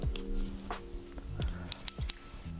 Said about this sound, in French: Ah, c'est bon, c'est les ciseaux.